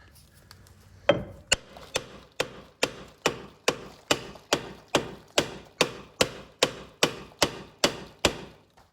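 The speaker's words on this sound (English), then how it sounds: "So you grab a hammer, check it out." A hammer strikes a metal brake caliper bracket on a 2016-2021 Honda Civic in a steady rhythm, about eighteen sharp, ringing blows, each landing roughly half a second after the last, close and loud.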